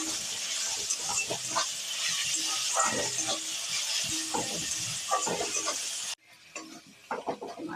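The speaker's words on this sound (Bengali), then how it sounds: "আদা রসুনটা দেবো। আদা রসুনটা একটু লাল লাল হবে।" Ginger and garlic frying in a pan with onion for a dhaba-style egg tadka, a steady close sizzle broken by stirring clatter, the hiss cutting off abruptly near the end before faint scraping resumes.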